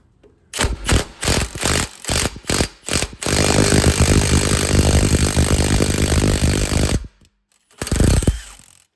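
A power tool, likely an impact wrench, runs on a seized Subaru wheel hub rusted into its knuckle, starting with several short rattling bursts, then a long continuous hammering run, then a final short burst, loud and close.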